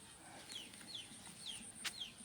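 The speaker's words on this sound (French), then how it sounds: "tout ce qui est poulet, coq, c'est vraiment en liberté" Free-roaming chickens and roosters in a Thai village, with several short clucks and calls repeating over steady outdoor background hum, moderately distant, plus one sharper call near the end.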